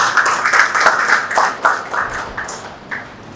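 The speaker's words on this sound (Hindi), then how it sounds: "जोरदार तालियां" Applause honoring MP Gopal Shetty at a housing society redevelopment seminar; a few seconds of loud, close clapping with sharp individual claps that thin out toward the end.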